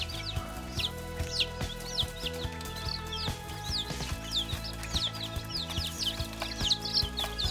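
Dense, continuous high-pitched cheeping from about 20 chicks, steady and busy throughout, with some low mechanical humming underneath.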